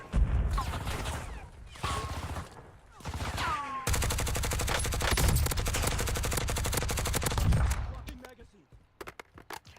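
Assault rifle fire in Call of Duty Warzone: bursts of rapid automatic shots, then a long sustained volley, heavy and close, fading into scattered single shots near the end.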